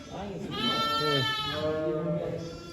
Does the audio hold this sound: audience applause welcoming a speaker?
no